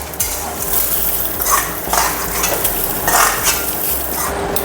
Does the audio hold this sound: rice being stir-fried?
yes